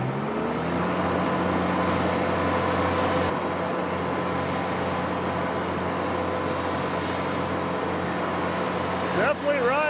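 A Ventrac 4520 compact tractor engine runs at a steady, loud drone with constant mechanical hum, close by, briefly rising near the end.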